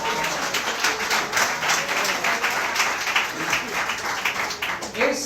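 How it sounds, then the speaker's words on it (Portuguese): A church congregation at Igreja de Nova Vida do Catete claps for the Lord, dense rapid applause filling the room continuously, with voices mixed in underneath. "Dê uma salva de palmas ao Senhor"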